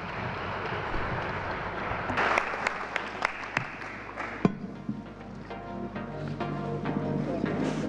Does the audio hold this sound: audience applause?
yes